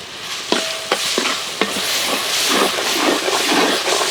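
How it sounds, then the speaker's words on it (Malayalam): Ginger garlic paste sautés in hot oil with a steady crackling sizzle, while a spoon repeatedly scrapes and clinks against the pan close by. "ഇഞ്ചി വെളുത്തുള്ളി പേസ്റ്റും കൂടി ഇട്ട് നന്നായിട്ടൊന്ന് എണ്ണയിലിട്ട് വഴറ്റിയെടുക്കുന്നുണ്ട് കേട്ടോ"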